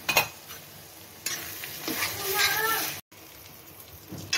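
Masala with coriander powder and chilli powder frying in oil for Bihari-style fish curry, a close hiss and crackle with scraping stirs that swells midway, cuts out briefly, then resumes more quietly.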